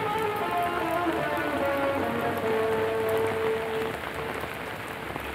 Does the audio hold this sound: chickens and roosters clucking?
no